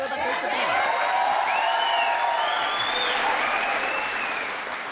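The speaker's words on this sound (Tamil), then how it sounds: "உண்மையிலேயே இவங்க எல்லாரும் ரொம்ப நல்லாவே கை தட்டுறாங்கன்னு" Studio audience of the Aap Ki Adalat talk show applauds steadily and loudly throughout, with some whoops and cheers rising over the sustained clapping.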